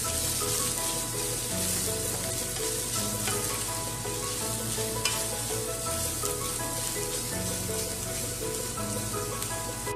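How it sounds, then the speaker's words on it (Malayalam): Omelette noodles fried and stirred in a pan, a loud continuous sizzle with scraping stir sounds throughout, close and without speech. "ഇതൊക്കെ നമുക്ക് അരിഞ്ഞു വെച്ചിട്ടുള്ള ഓംലെറ്റും കൂടെ ഇട്ട് കൊടുക്കാം. നന്നായിട്ടൊന്ന് ഇളക്കി കൊടുക്കുക."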